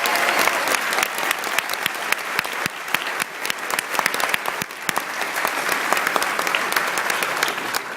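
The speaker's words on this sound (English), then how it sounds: "Let's give them a round of applause." Steady applause from a dinner audience at a public-interest law organization's gala, dense overlapping claps filling the room at an even level for several seconds with no one speaking.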